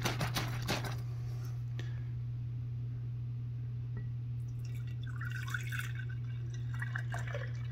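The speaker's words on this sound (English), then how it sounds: "We're going to pour that buttermilk off into that jar." Buttermilk pours from a Pampered Chef butter churn into a jar, giving soft liquid trickles and drips over a steady low hum, with a few clinks and splashes near the end.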